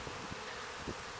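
A captured honeybee swarm being settled into a hive box, with a steady, dense buzzing of many bees around the entrance, fairly quiet and continuous with a few louder passes.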